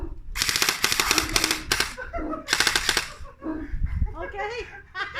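An airsoft gun fires loud, rapid bursts of snapping shots in two main volleys, alternating with excited talk between them.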